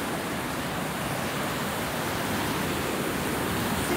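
A waterfall heard from its edge, a dense constant roar of falling water with no break or change in level, close and loud.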